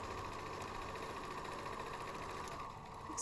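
A sewing machine runs in a steady, continuous whir, stitching back and forth to lock the seam while a fabric gnome is sewn together; the motor drone holds even and close throughout, with no talking.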